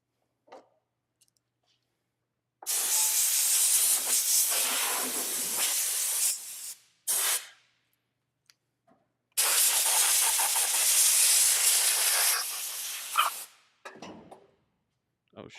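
Compressed air hisses from a Miller Spectrum 625 plasma cutter in two long, loud, steady blasts of several seconds each, with a brief puff between them and near-silence around them.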